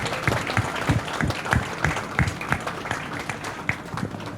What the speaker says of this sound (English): A round of applause, Sinta.